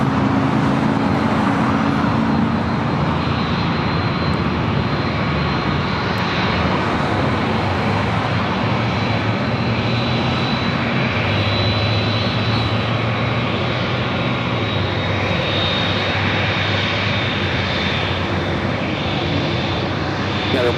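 United 198 heavy, a large airliner, takes off from runway 24 left, its engines roaring in a steady, loud, sustained wash of noise that holds throughout.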